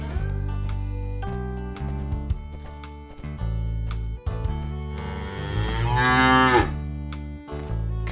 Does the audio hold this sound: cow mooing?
yes